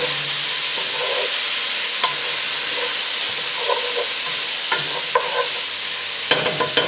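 Minced garlic is stirred into a pot for a one-pot Cajun shrimp sausage pasta, a steady loud sizzle over which a spoon scrapes and taps against the metal in uneven strokes.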